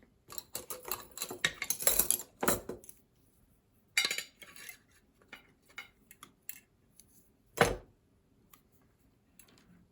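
Snips and clinks from shears cutting the roots of a yamadori shohin literati bonsai during repotting, arriving in irregular bursts that are dense early on and then sparser, with one sharp cut near the end and no talk.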